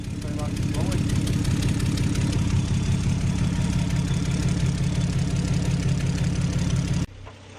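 A turbocharged Lexus car engine idles loud and close with a steady, slightly lumpy mechanical throb, recently fitted with repaired injectors after an oil feed leak, running for about seven seconds before cutting to quieter background.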